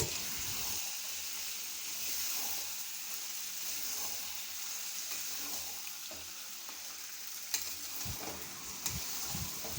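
Mutton stir-fried in a pan for mutton kosha, a steady low sizzle and hiss running throughout with occasional stirring scrapes and a couple of sharper clinks near the end.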